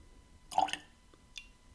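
Water is added to a glass of bottled-at-46% Tullibardine Murray Marsala Cask whisky: a faint, brief pour and splash, then a small drip a moment later, quiet and close.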